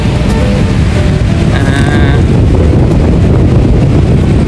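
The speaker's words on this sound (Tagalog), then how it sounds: "Napakalakas pa rin pala ng hangin guys, ano?" Strong wind buffets the microphone in a constant roar, with surf washing in the background and a faint voice briefly audible.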